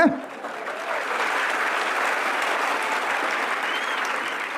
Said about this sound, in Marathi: आणि टाळ्या वाजवताना मरेलवाणी वाजायचं ना